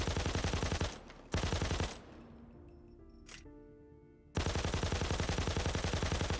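Light machine gun in Payday 2 fires in long, loud sustained bursts, a rapid rattle of shots that stops for about a second between bursts with only a brief pause and ringing tail in between.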